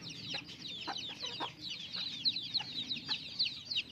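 Free-range village chickens clucking softly nearby in short repeated bursts, with higher chirps of chicks layered over a quiet background.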